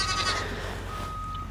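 Goats on a farm bleat on a cold day, a single drawn-out, wavering bleat heard fairly close over a low background hum.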